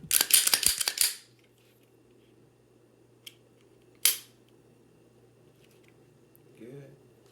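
A Glock 26 pistol is dry fired: a quick cluster of sharp, close mechanical clicks, then two isolated clicks a few seconds apart. The rest is near silence.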